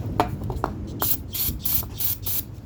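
Brake cleaner hisses from a spray can onto bolt threads in several short bursts, close and fairly loud, following a few small metallic clicks.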